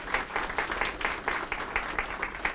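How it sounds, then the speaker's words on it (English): A crowd at a school-district open house for an urban STEM center applauds in a warm, continuous round of many hands clapping, fairly close and even throughout the short stretch, with no voices over it. "a huge round of applause for the Akron Public Schools and the Canton City School District"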